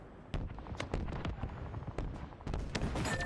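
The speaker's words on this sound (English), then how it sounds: "that guy had a rocket launcher?" Rocket launcher explosions and gunfire in a multiplayer shooter game, a dense barrage of sharp blasts and bangs layered over continuous loud battle noise with faint voices underneath.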